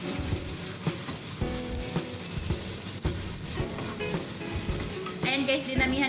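Corned beef frying in plenty of oil with red onion, a steady close sizzle and crackle with occasional stirring scrapes of the pan throughout.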